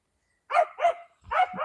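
Small dogs bark while playing: three close, lively barks with short pauses between them, the last run into a yip, and no talk over them.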